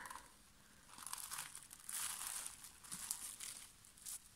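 Foil crinkles softly beneath air drying clay as it is pressed and smoothed over a shape, faint, close crackling that comes and goes in short bursts, with no voices.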